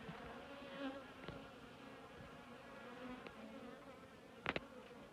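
Honeybees hum steadily at a hive while being fed sugar syrup, a constant close buzzing with a few brief louder passes of individual bees near the listener.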